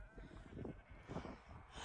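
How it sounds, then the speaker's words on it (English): A sheep on a farm bleats twice in low, wavering calls, close and moderately loud, against steady outdoor background noise. "If you ever see a sheep upside down, go and tip it back over."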